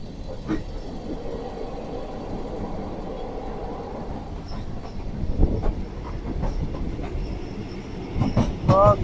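A three-car local train in Thailand rolls along with a steady rumble and rattle of carriages, rhythmic clickety-clack from the wheels and brief metallic wheel squeals toward the end.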